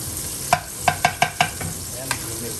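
Sea bass pan frying with a steady sizzle underneath, while a run of five sharp utensil knocks against the pan comes in quick succession, followed by a fainter tap; close and fairly loud, no voices.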